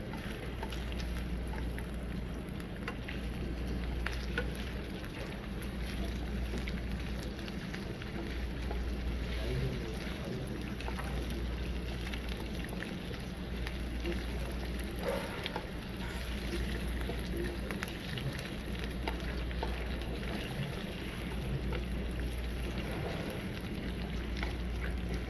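Doenjang-seasoned pork jowl stir-fries in a pan over low heat, giving a soft, even, rain-like sizzle that runs unbroken and fairly quiet over a low background hum.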